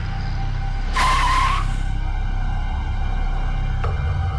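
A car skids to a stop with a short, loud tire squeal lasting about half a second, set against steady engine and road rumble with no talking.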